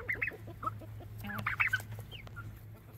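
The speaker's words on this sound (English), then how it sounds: "that's our little chicken, duck, turkey flock in this cool old coop" Chickens clucking in a backyard coop shared with ducks and turkeys, a run of short, close clucks and squawks over a low steady hum.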